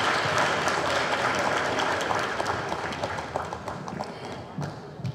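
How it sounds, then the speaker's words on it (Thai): An audience at a Thai event honoring a film speaker applauds, a broad, dense wash of clapping with occasional sharper claps, steady then slowly thinning toward the end, with some murmuring voices underneath. "ขอขอบคุณและขอเสียงปรบมือด้วยค่ะ"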